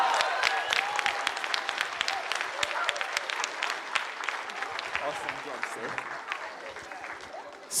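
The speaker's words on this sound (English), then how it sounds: "Can everyone stand and give applause for the graduates of" Audience at a charter academy graduation in Hempstead stands and applauds the graduates, a dense, sustained wash of many hands clapping that carries on steadily throughout, with faint voices mixed in.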